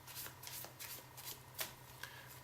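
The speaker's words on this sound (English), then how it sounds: "you're going to flip the deck over like this, and then you're going to start shuffling cards" A deck of playing cards being shuffled close up on a table: rapid papery riffles and soft slaps in quick bursts, with a few sharper flicks, quiet and alone with no talking.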